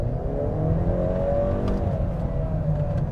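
A Honda CR-V Hybrid accelerates at full throttle, its engine note rising in a steady, smooth climb with a whirring hybrid drivetrain tone, heard from inside the car with no talk.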